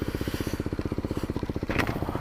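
A Kawasaki Z125 motorcycle with an Arrow exhaust idles close by, a rapid, even putter of exhaust pulses for about two seconds, ending in a brief scrape or clatter.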